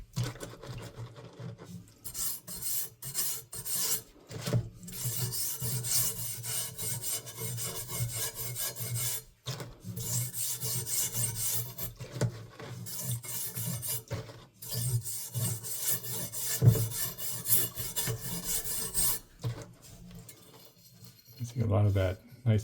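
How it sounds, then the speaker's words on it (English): Abrasive sanding strips rust from a ceremonial sword's steel blade in long raspy rubbing strokes, coming in bursts separated by brief pauses, close but fairly quiet. "And then we'll get to sanding."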